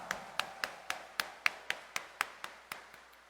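A congregation at a Catholic mass in Quiapo Church claps in a slow, steady rhythm of about a dozen sharp claps, evenly spaced and moderately distant, with no talking.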